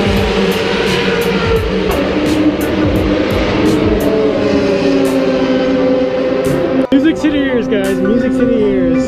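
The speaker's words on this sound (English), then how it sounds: "these cars just come zooming past us" Race cars roar past at Circuit of the Americas in a loud, sustained engine wail that shifts pitch as they pass close by, with voices talking over it and a sharp break near the end.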